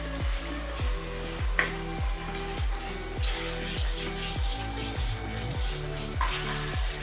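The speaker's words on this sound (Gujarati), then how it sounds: "તો આપણે એમાં લાલ મરચાંની પેસ્ટ એડ કરી દઈશું." Kashmiri red chili paste fries in a pan for a spicy Kolhapuri misal, giving a steady close sizzle with regular scraping strokes of a spoon throughout and no talk.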